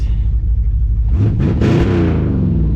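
A 1954 Chevy cabover truck's engine, freshly fitted with a swapped carburetor, idles low and steady, then revs up sharply around the midpoint and holds a loud, rising roar to the end, with no talk.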